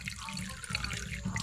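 Water running from a newly installed tap into a kitchen sink at a farmhouse, a steady close splashing stream that holds for the whole moment without pause.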